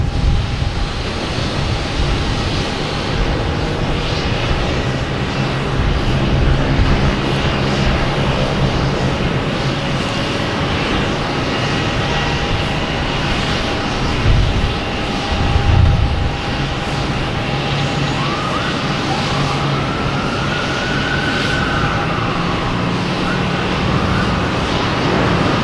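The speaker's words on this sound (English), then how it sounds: "Air France is second to take off, so Lufthansa has beat Air France to runway 4 right." A Lufthansa jet airliner takes off from runway 4 right at Boston Logan Airport, its engines giving a loud, steady roar that holds strong for the whole stretch and swells slightly midway, with no talk over it.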